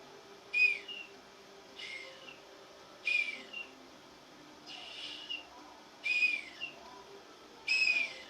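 A whistle blown to imitate a bird call in the open, five or six short, faint chirping blasts at steady intervals over quiet background hiss.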